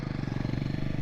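Motorcycle engine labouring in first gear on a steep climb during a Kolkata to Adi Kailash bike trip, a steady pulsing rumble with a regular thumping rhythm, close and continuous throughout.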